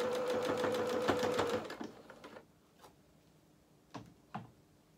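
Sewing machine running a small stitch length on lace for a doll dress, a rapid steady mechanical whir that stops, followed by a few soft clicks and taps.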